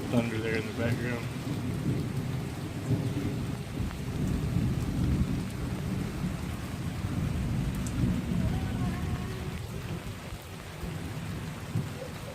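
Steady rain falls during a thunderstorm while low thunder rumbles continuously in the background, filling the whole stretch with no voices.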